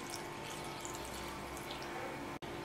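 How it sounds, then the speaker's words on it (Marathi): Soaked soybeans are washed in fresh water on a plate. A quiet, continuous watery swishing carries on with a low steady hum beneath it and no voices. "आता याच्यात आहे ना दुसरं पाणी घालून याला धुवून घेऊ।"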